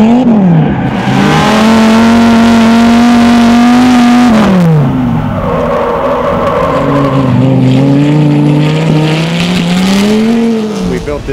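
Dodge SRT10 Viper drift car engine revving loud and close throughout, pitch climbing, dropping and rising again across repeated throttle blips, with a little tire noise mixed in.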